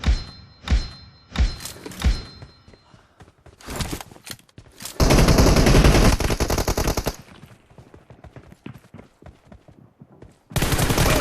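PUBG Mobile team deathmatch gunfire, with a few spaced single shots at first, then a long sustained automatic burst midway and another burst starting at the end, close and loud.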